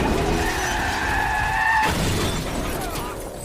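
A car from a John Wick chase sequence skids with a long tire squeal before a sudden crash and shattering impact, followed by a noisy tail of debris and engine rumble, loud and close.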